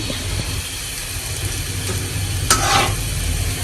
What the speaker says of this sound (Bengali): এদিকে আম্মু তালে বড়া করতেছে নানোর জন্য